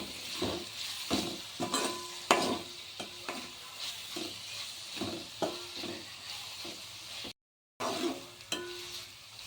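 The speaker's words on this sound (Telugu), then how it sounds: "మనమైతే ఒక ఫైవ్ టు టెన్ మినిట్స్ అలా ఫ్రై చేసుకోవాలి" Brinjal with raw green chili paste fries in a pan, a steady sizzle broken by repeated scraping and stirring strokes in an uneven rhythm, with a brief dropout near the end.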